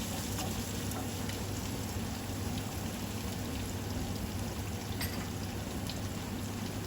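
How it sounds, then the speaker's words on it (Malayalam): Chopped onions with curry leaves and salt sauté in a pan, giving a steady, even sizzle and hiss that runs on without a break and holds at a moderate level. "അല്പം ഉപ്പ് ചേർത്ത് കൊടുക്കാം നമ്മുടെ സവാളയൊക്കെ ഒന്ന് വഴണ്ട് വരാൻ പാകത്തിന്"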